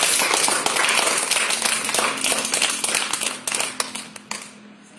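An audience at a school quiz event styled after Kaun Banega Crorepati claps for the winner, a dense burst of many hands that is loud at first and thins into scattered claps near the end.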